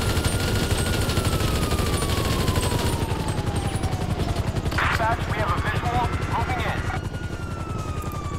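A helicopter's steady rotor chop throbs throughout a Grand Theft Auto V gunfight, with rapid bursts of automatic gunfire and a siren wail layered on top, loud and dense.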